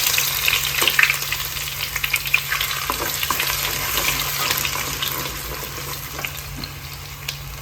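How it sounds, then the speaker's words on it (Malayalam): Mustard seeds spluttering and crackling in hot oil for a South Indian fish curry, a steady dense sizzle with scattered sharp pops throughout, loud and close, fading slightly toward the end. "നമ്മൾ കടുകൊക്കെ ഒന്ന് പൊട്ടിക്കോട്ടെ"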